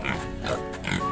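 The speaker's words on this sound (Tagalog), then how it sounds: "Andito yung mga baboy niya." Pigs on a small farm grunt and squeal in short, overlapping bursts, close and moderately loud, with a little background noise.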